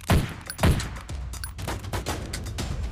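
Gunfire in the Boom Hero tactical combat mobile game: a burst of punchy, close shots with two heavy thumping blasts early, then a quicker run of lighter rapid cracks.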